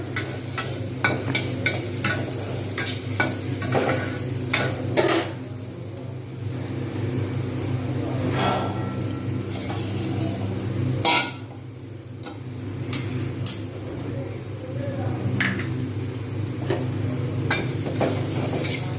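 Onions frying in a pan while cooking mung dal with a katla fish head: steady close sizzle and crackle across the whole stretch, with occasional stirring scrapes and clinks of the utensil.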